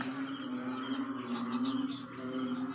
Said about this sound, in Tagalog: Nadidinig nyo ba guys yung ingay ng palaka?